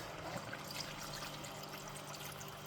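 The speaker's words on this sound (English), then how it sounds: "Now we can lower down the heat and put some water in it." Water pours steadily into a pot of braised pork belly (hong shao rou) on a stovetop, a faint, even trickle running throughout with no talking.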